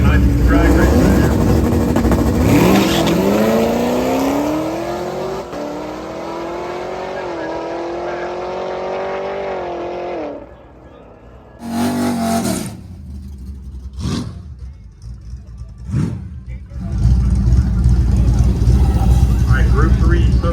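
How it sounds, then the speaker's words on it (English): Cars in a drag race roar past with rising, revving engines that sweep up in pitch over several seconds, then more loud passes follow, with a voice over a loudspeaker calling out amid the engine noise. "Be a nice drag race there."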